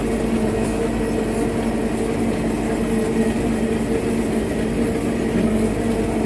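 A tractor pulling a 600-litre sprayer tank of liquid boron fertiliser across a soybean field drones with a steady, loud engine hum and rumble, continuous and unbroken with no voices.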